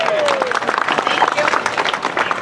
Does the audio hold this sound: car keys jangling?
no